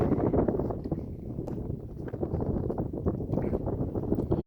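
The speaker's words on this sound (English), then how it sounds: "I was hoping this wind would die down, but it is not. It is still very windy" Strong, gusty wind buffets the microphone near the 14,433-foot summit of Mount Elbert in Colorado, a loud, churning low roar that surges and falls without a break.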